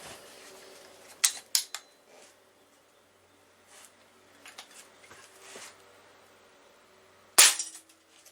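A Crosman 1377 air pistol firing a 6.4 grain pointed pellet, a sharp close crack near the end preceded by a few smaller clicks and mechanical snaps in an otherwise quiet room.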